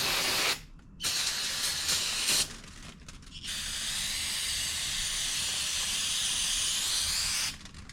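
Brake parts cleaner sprayed from an aerosol can onto parts of an Echo PE-200 edger: several loud, hissing bursts, a short spurt, then a long sustained spray that cuts off near the end, with no talking.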